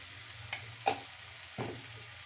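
Spices cooking with a splash of water and salt in a pan for a potato roll filling make a faint, soft sizzle, with a few light scrapes of stirring.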